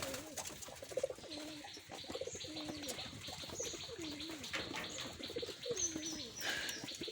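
Wild jalali pigeons coo repeatedly in a rhythmic series of soft, throaty calls, with faint chirps and a brief flutter of wings, close but quiet against a light background hiss.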